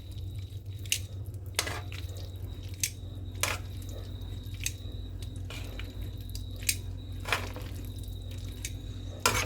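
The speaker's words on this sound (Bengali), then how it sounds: "পাস্তাগুলো একটু একটু করে দিয়ে আপনাদের ঠিক এইভাবে" Pasta is stirred into a creamy white sauce in a pan, giving soft wet squishes and intermittent clicks of the utensil over a low steady hum, close and fairly quiet.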